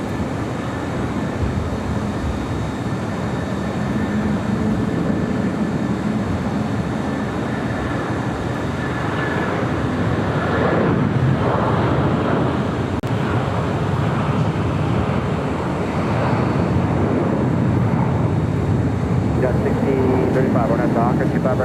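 An ITA Airways plane arriving at Los Angeles airport rumbles in a continuous engine roar that builds slightly toward the end, heard under ongoing talk.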